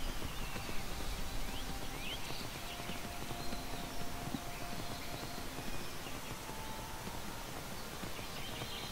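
Steady clip-clop of horse hooves while riding in Skyrim, an even galloping rhythm that runs without pause under a light outdoor ambience with faint birdsong.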